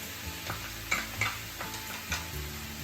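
Garlic tossed into cabbage frying in a pan, with steady sizzling and a few stirring scrapes and knocks of the utensil against the pan, fairly close.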